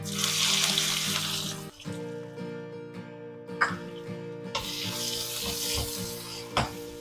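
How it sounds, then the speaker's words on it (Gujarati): Chopped onions hit hot oil already holding cumin seeds and asafoetida, giving a sizzle that swells and drops in bursts, with a few sharp clinks from the pan. "1/4 ચમચી જેટલી હિંગ એડ કરું છું અને 2 ડુંગળી સમારેલી એડ કરું છું"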